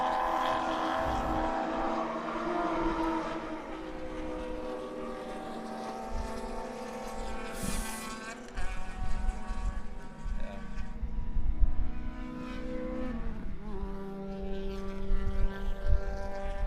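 Touring race cars lap the Sonoma track, engines droning and shifting pitch as they pass at moderate distance, one car swelling closer and fading midway, with a continuous layered motor whine throughout.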